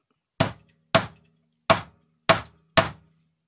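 A hammer strikes a wooden block to set a rivet in a recipe binder, five sharp, close, solid knocks at uneven intervals with silence between, no talk.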